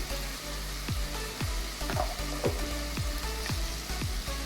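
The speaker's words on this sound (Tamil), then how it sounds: "2 தக்காளி வதக்கிக்கலாம். வதங்கும் போதே கொஞ்சமாக ஜீரகம் போட்டுக்கலாம்." Tomatoes and cumin sautéing in a pan for eggplant kara kuzhambu, a steady oily sizzle with a series of regular scraping stirs close by, no voices.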